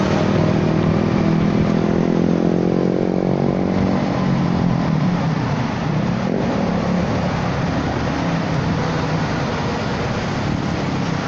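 A Honda Forza 300 scooter engine drones steadily while riding after rain, a continuous loud hum with wind rush and slight pitch rises as it accelerates, with no talk.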